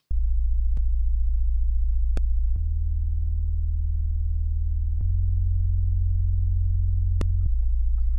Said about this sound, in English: So the next thing we had here was this sub bass